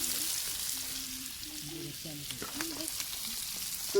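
Chicken kaul (offal) frying in a pan, giving a steady soft sizzle that runs throughout with faint stirring scrapes and distant voices in the background.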